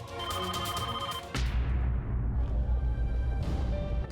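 A telephone rings at home, a repeating electronic trill for about a second before giving way to a loud low hum and a faint tone.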